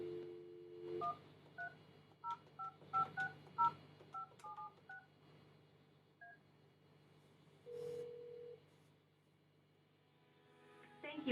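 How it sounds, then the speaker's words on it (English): DTMF keypad tones ring out as a call is placed through the VitalPBX-Zoho phone system: a quick run of about a dozen short beeps over a steady low hum, then a longer tone and a faint ending blip. "now I have placed a call to a phone number of one of my contacts"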